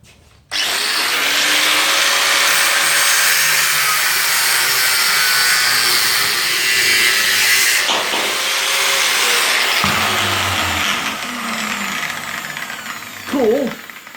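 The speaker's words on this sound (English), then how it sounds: "I can get in with the grinder and grind all that away" An angle grinder grinds down the wheel bearing shoulder on a 2006 Mazda Axela rear hub, a loud continuous abrasive roar that holds steady for over ten seconds and then winds down with a brief voice at the end.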